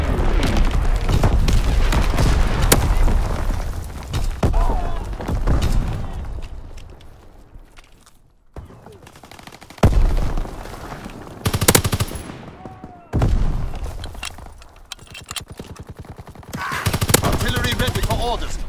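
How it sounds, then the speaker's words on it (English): Heavy rapid gunfire and booms from a fighter plane strafing run in Call of Duty WWII rattle in loud dense bursts separated by short lulls, with radio-style game voices in between. "Fighter pilots ready for strafing run."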